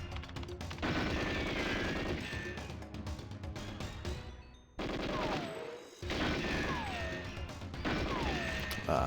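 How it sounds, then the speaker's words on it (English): Rapid bursts of gunfire from a weapon in the GoldenEye 007 video game, loud repeated cracks and clattering shots filling most of the stretch with a brief pause midway, alone without talk. "now I've got to use my proper gun here to get rid of the"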